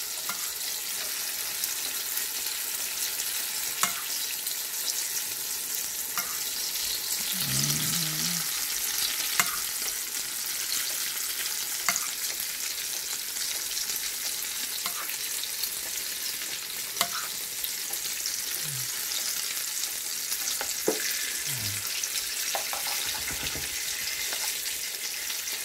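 Tortang talong, an eggplant omelette with egg, frying in a pan, a steady bright sizzle lasting throughout, with occasional soft clinks and stirring sounds and no talking.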